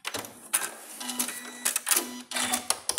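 An Elna 780 sewing machine stitches a wide zigzag through twelve layers of fabric in short, rapid mechanical bursts separated by brief pauses, heard up close at modest volume.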